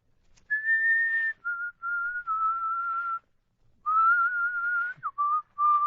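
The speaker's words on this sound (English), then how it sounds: "What's that you're whistling?" Someone whistles a slow, clear melody, close and steady, with held notes broken by short pauses and no talking.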